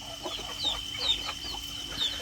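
Farm chickens cluck softly nearby, a few short calls scattered over a low ambient background with a faint steady hum.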